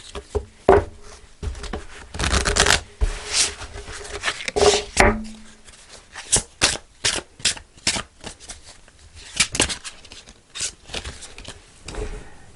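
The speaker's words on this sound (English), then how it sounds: "So I'm just going to pull a reading card" Tarot cards being shuffled by hand to draw a reading card, a series of crisp riffling and slapping bursts in an irregular rhythm, close and fairly loud, with no talking.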